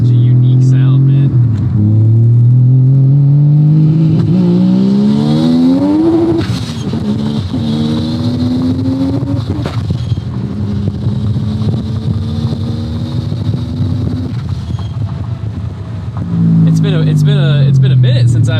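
Turbocharged Mazda RX-7 rotary engine heard from inside the car, loud and droning, climbing through the revs in repeated pulls with gear changes and a roughly buzzing exhaust note, with people talking over it at times.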